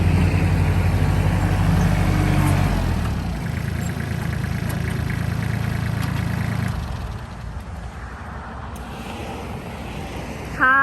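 A Kubota L2808 three-cylinder, 28-horsepower tractor from 2009 runs steadily at close range with a low, continuous engine drone that eases slightly partway through, with no talking.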